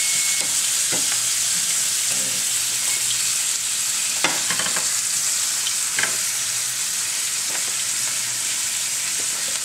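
Onions sizzle and fry on a hot cooking surface beside steak and potatoes, a steady loud hiss with occasional clicks and scrapes of a utensil, and no talking.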